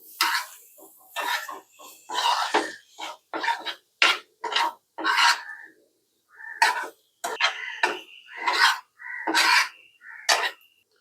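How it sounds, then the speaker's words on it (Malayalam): Boiled potatoes mixed in a pan, with rhythmic scraping and clattering strokes of a utensil coming in short bursts separated by brief silences, close and fairly loud, no talking. "എന്നിട്ട് നമുക്കൊന്ന് മിക്സ് ചെയ്യാം"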